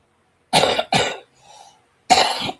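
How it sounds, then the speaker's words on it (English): Three close coughs from one person, two quick bursts then a pause with a faint breath before a third loud cough, near and clear with no talking. "I feel like I got a cough every 5 seconds now"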